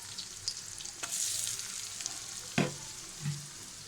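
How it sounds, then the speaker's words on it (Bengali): Flour frying in butter and oil for Russian donuts, a soft steady sizzle with a few scraping stir clicks and one sharper clatter near the end, fairly quiet and close. "বাটার আর তেলের সাথে ভেজে নেব"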